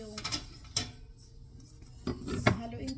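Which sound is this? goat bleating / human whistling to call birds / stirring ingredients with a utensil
stirring ingredients with a utensil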